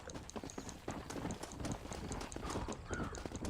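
Horse hooves galloping in the video game Red Dead Redemption, a quick, steady run of close clip-clop beats continuing without a break.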